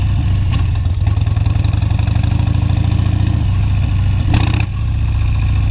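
Heavy Harley-Davidson motorcycle engine running low and steady during a slow, tight U-turn, a close, loud, throbbing idle-like rumble with a brief rise in revs near the end.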